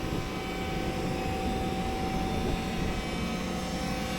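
Volvo EC60E excavator engine roaring steadily at full throttle, a loud, constant close drone with no variation and no talking.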